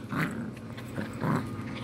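A playful puppy gives two short, rough growls over a steady background rumble, close by and moderately loud.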